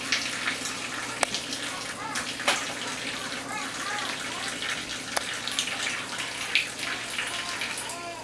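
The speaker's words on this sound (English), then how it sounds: "Are you doing dishes?" Water runs steadily at a kitchen sink while dishes are washed, a soft continuous splashing with occasional clinks and faint voices in the background.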